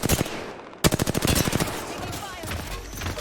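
Rapid automatic gunfire in a battle royale shooter game rattles in fast bursts, with a sharp break partway through before more shots and a lower rumbling tail.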